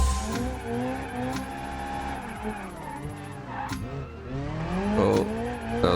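A nitrous-boosted car holds a long drift in a racing game, its revving engine whining and rising in pitch over continuous tire squeal, loud and close throughout.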